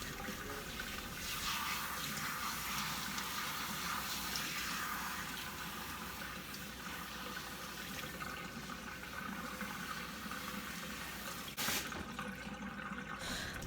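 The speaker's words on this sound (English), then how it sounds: "I'm going to really take my time rinsing it" Running water rinses shampoo out of hair in a steady continuous wash, a broad hissing splash that stays close and constant throughout, with a brief shift near the end.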